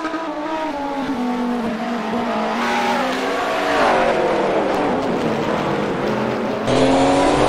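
GT race car, the number 69, accelerating hard at Virginia International Raceway, engine note climbing through the revs with a gear shift partway, loud and close, with other cars audible and a commentator talking over it.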